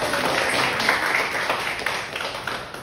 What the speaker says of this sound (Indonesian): Oke, boleh beri tepuk tangan terlebih dahulu.